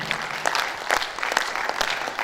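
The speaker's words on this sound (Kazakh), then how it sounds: "композитор Мейрамбай Бектасов бүгінгі кешке шапалақтарыңыз" A concert audience at an evening of composer Meirambai Bektasov's songs breaks into warm, sustained applause from many hands, filling the hall for a couple of seconds.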